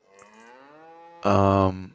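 Cows moo in Farming Simulator 25: a long, softer low moo followed by a short, loud, close one.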